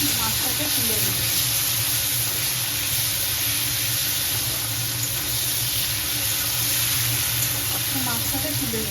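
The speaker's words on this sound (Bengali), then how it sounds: "আলু ভাজার তেলের মধ্যে নুন আর হলুদ দিয়ে চিংড়ি মাছটা ম্যারিনেট করে রেখেছিলাম, এটা ভেজে নিচ্ছি।" Shrimp marinated in salt and turmeric frying in hot oil left from frying potatoes, a loud, steady sizzle and hiss that runs unbroken throughout.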